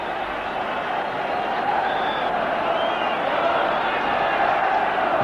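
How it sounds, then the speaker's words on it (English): A home crowd at a Burnley v Sheffield Wednesday FA Cup quarter-final football match applauds a player, sustained distant clapping and murmuring from a large stadium audience that holds steady throughout. "The home crowd give him fulsome applause."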